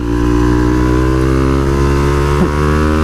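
A supermoto motorcycle engine holds a steady, loud drone close by, rising gradually in pitch under throttle, with a brief change in tone near the end.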